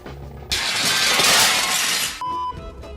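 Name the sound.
glass dropped and shattering through a table in a movie scene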